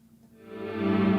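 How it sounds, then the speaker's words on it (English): Meris Mercury 7 reverb pedal used with a Mellotron, a sustained tonal chord swelling up from quiet to full over about a second, lush and wide with no talking. "Just a glorious, glorious reverb"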